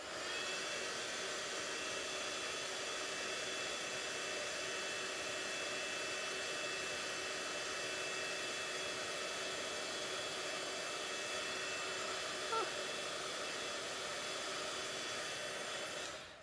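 A heat tool blows hot air over embossing powder on a handmade spring bunny card, giving a constant, even whooshing drone, close and steady for the whole stretch with no talk.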